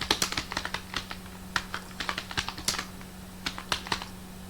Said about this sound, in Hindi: चलो जल्दी हम टाइप करते हैं।